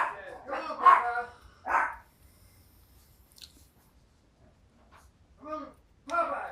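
Dogs bark indoors in a few short, loud bursts spread across the stretch, with a quiet gap in the middle and a person's voice calling nearby.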